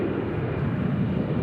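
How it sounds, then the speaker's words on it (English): Distant airplane droning steadily near Nashville International Airport, a low continuous rumble held at a constant level throughout. "I hear a plane somewhere, as I'm sure you do."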